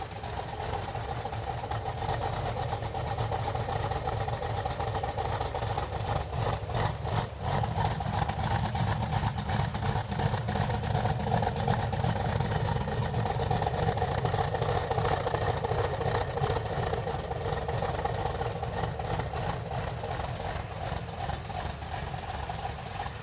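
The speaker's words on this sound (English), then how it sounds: "It's actually really cool to hear a police car sound like that." Modified Chevy Caprice police car engine idling with a noticeable cam lope, a continuous uneven, loping low rumble held for over twenty seconds, close and steady with slight surges in the middle.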